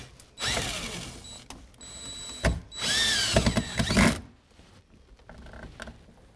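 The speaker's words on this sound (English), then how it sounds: "Drill's pretty powerful here, more powerful than me." A power drill drives screws into new room hardware in several close, loud whirring bursts of rising pitch, with short pauses and clicks between them, then quiet handling sounds.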